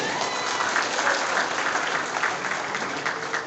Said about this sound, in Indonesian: Tepuk tangan yang meriah untuk Ibu Fahira Idris